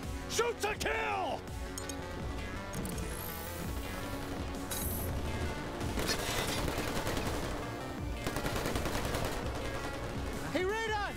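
Dense, sustained automatic and single-shot gunfire from a firefight in the video game New Tales from the Borderlands, loud and nearly continuous for the whole stretch, layered with game music, whooshes and voices talking.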